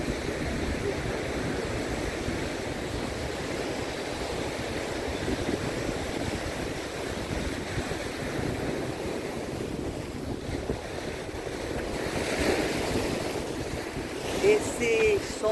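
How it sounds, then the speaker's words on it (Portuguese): Sea waves breaking on a beach, a constant close wash of surf with wind buffeting the microphone throughout, no talking. "Esse som do mar é uma delícia, né? A onda vem e bate"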